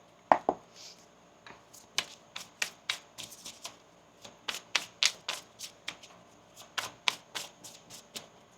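A tarot deck is shuffled by hand in a quiet room, a rapid series of crisp card snaps and riffles in uneven bursts, close and clear with no talking.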